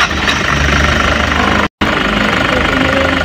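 A Toyota Hiace 3.0 engine runs after a timing belt replacement with the timing cover still off, a loud, close, steady idle with a slight knock and one brief dropout.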